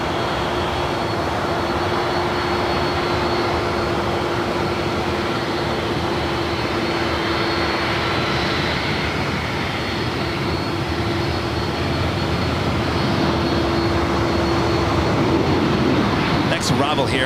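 A Delta airliner comes in to land on runway 7 right at LAX, its jet engines a steady, loud, broad roar with a sustained whine running throughout, close by and unbroken.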